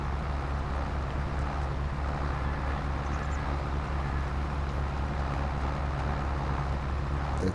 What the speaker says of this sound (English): I love how this tractor is pulling very hard.